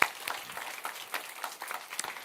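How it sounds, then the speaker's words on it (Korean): A short spell of light, scattered applause from a church congregation, soft irregular claps at moderate distance in a quiet hall, with no speech over them. "몇 명 빠진 것 같은데 박수 쳐줍시다."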